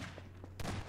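A gunshot fires in the Nextbots video game, a sharp loud burst standing out over a steady low hum, preceded by faint softer pops.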